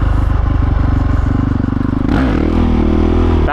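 A dirt bike engine drones in a fast, pulsing idle-like rhythm, then the throttle opens into a loud rising rev that holds steady, close to the microphone, during a wheelie, with faint clattering mechanical noise.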